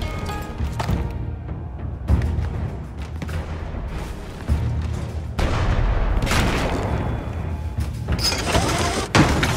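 Cannon fire in the video game Shadow Tactics: Blades of the Shogun, heavy booms and thuds recurring at irregular intervals over a rumbling game soundscape.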